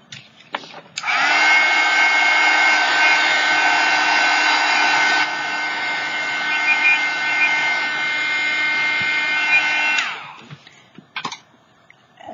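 A small handheld heat tool for drying craft ink on an index card whirs steadily for about nine seconds, loud and close, with a high whine, then clicks off.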